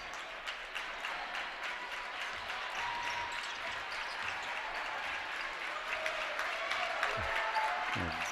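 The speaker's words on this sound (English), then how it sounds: "Some of the Har-Ber faithful applauding the offense" Fans at a boys high school basketball game in a gym applauding steadily, a soft, distant patter of clapping that holds throughout, with a couple of faint ball bounces near the end.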